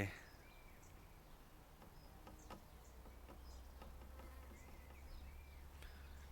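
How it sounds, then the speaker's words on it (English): Steady insect buzzing of bees flying past close by over a constant low outdoor hum in the UK, with faint bird calls and light ticking sounds scattered through. "You can hear the bees though. Jeez, flying past my head."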